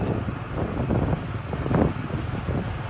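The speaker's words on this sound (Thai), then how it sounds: "ลมพัด" Wind blowing outdoors on a sunny, breezy day near a hotel under construction in a Laotian neighborhood, heard as a continuous low buffeting rumble against the microphone with gentle surges and no talking.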